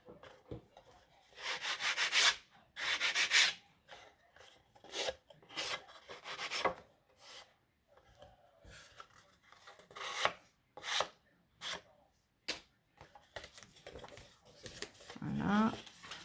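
A file rasps along the folded edges of a cardboard Advent calendar bookcase in uneven bursts of scraping strokes, close and moderately loud, separated by short pauses.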